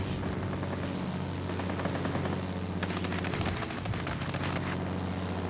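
Twin .50 cal machine guns of a P-40 Warhawk fighter in a flight combat game: rapid chattering bursts over a constant droning engine hum, the firing thickening midway and fading again, fairly quiet overall with no talk.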